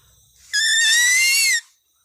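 A hunting call imitating an animal to lure a mouse deer: a single sustained, high, tonal whistle-like cry lasting about a second, loud and close, alone against silence.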